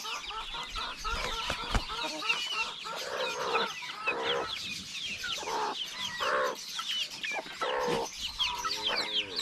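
Chicks chirping in a backyard poultry setting: dense, continuous high peeps and cheeps from many young birds, with occasional lower clucks from adult chickens mixed in, steady and fairly close throughout.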